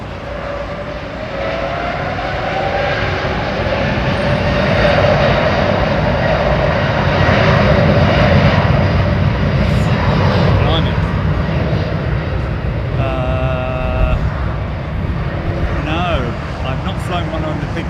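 A jet airliner roars at London Heathrow as a loud, sustained engine rumble with a slowly rising whine, while people talk nearby over it.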